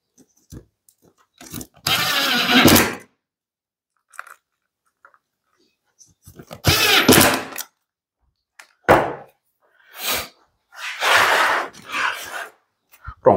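A power screwdriver drives self-drilling screws into a CNC plasma cutter's electrical panel in loud, whirring bursts of a second or so each, separated by quiet gaps, close up, with no talking over them.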